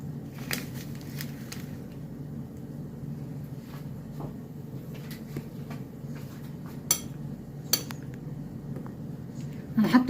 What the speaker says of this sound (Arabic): هنقلبهم كويس بقى مع بعض.